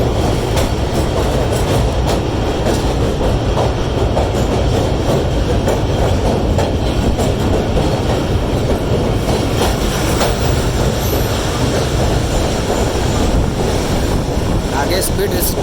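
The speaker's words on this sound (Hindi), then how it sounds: "आगे स्पीड रिस्ट्रिक्शन है, इसलिए ट्रेन आहिस्ता चल रही है।" A passenger train rolls slowly across a bridge over the Indus River, with loud continuous rumble, rhythmic wheel clatter and wind buffeting the microphone from on board.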